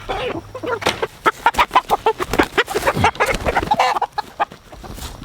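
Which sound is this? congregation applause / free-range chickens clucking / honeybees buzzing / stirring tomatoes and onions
free-range chickens clucking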